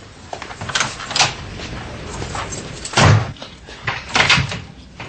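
An interior door shuts with a firm, muffled thud about midway, framed by softer movement sounds and a few quieter knocks.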